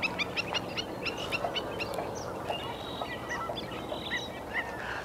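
A flock of Canada geese honks repeatedly, overlapping calls bursting in quick clusters against a constant outdoor hiss, some near and some farther off.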